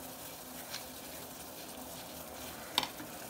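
Masala tea boiling in a pot, a faint, steady bubbling hiss with a brief clink near the end.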